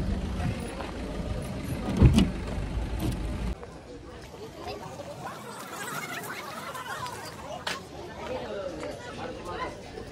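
A car engine rumbles loudly at close range while it is parked at Tuljapur for about three and a half seconds, then cuts off, with people chatting over it and continuing after.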